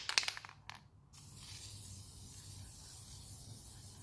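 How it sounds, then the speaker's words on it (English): A spray can sprays paint onto wheel rims, with short hissing bursts at the start, then a steady, even hiss that continues close by and fairly faint. "Spray this side as well to make sure I get all the corners."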